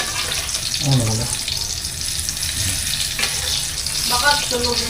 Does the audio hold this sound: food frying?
yes